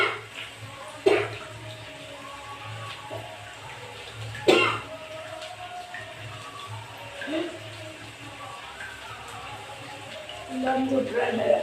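Harsh coughing fits after eating very spicy food in a hot food challenge, with a few loud coughs and throat clearing spread among a speaker's talk and faint background noise.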